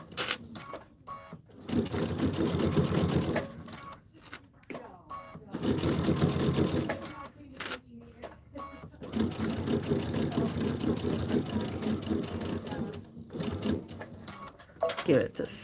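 A sewing machine stitches a Minki Kim Bloomberry quilt panel in bursts of steady, rapid mechanical whirring, stopping and restarting several times, with a person talking between runs.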